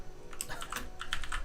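Rapid, light keyboard taps clatter close to the microphone, with a few mouse clicks mixed in, as keys are pressed in quick irregular bursts during a Minecraft session.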